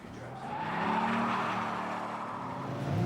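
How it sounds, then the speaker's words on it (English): A V10 Dodge Viper and a V8 Corvette launching in a drag race, engines roaring loud and close with a swelling rush and tire squeal from wheelspin. "the V10 Viper against the cheaper V8 Corvette"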